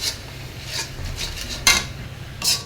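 Pot and utensil clatter with scraping stirring as onion, garlic, green chilli, salt and spices are fried in a cooking pot; intermittent clinks and scrapes close by over a faint low hiss, no voices.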